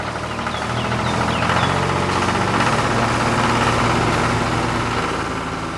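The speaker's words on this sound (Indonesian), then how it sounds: "Traktor merah beraksi di tengah ladang yang indah." A red tractor engine runs on a farm field, a loud, steady, low mechanical drone with a faint knocking pulse, sustained throughout with no voices.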